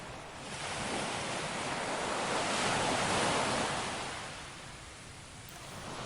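Ocean waves at Hawksbay Beach, Karachi, wash in with a broad, rushing roar that swells and then eases, steady and unbroken, with no voices.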